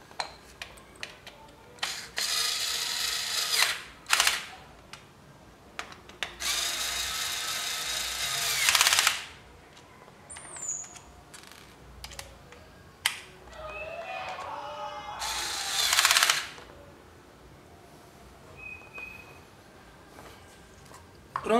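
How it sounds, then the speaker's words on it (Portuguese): Cordless power screwdriver tightening the cover screws on a Yamaha XV 250 Virago motorcycle during an oil and filter change, several short whirring bursts separated by pauses, with small clicks and handling noises between them. "eu vou terminar de fechar aqui a tampa com a parafusadeira"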